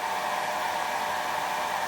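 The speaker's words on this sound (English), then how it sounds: "So let's turn the blow dryer right up." A hair blow dryer turned up to full power, drawing heavy current from an inverter, a steady loud whooshing roar held evenly throughout with no talk.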